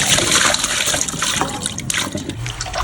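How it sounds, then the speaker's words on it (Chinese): Pork liver is rinsed under a running kitchen tap, with steady gushing, splashing water and irregular sloshes as the pieces are handled, close and fairly loud without any talk. "然后再放在水龙头底下多冲洗几遍"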